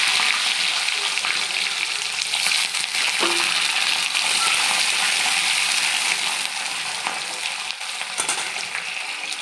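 Onions sizzle steadily in hot oil in a pan while cooking egg chilli, a dense, crackling hiss that carries on evenly throughout with occasional stirring scrapes.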